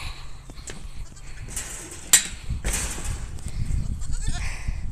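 A goat bleats being put into its cage, a few sharp, harsh cries over a noisy outdoor background with rustling and knocking.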